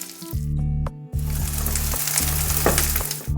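Egg pieces frying in hot oil with green chilli and curry leaves give a loud, steady sizzle up close, broken by brief pauses and a low pan hum, with no voices.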